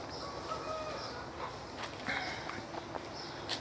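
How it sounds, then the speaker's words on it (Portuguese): Small birds sing outdoors in Santa Elvira, MT, with faint, scattered high chirps and short whistled notes over a quiet rustling background. "E esses passarinhos que estão cantando, eu pensei que fossem pássaros grandes"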